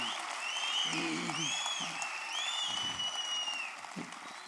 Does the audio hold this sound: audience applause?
yes